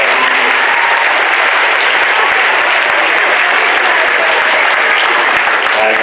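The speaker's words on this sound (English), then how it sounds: "clap your hands if you're happy it's Friday" Loud, dense clapping fills a hall at a school Black History Month celebration, many hands beating steadily and evenly without pause.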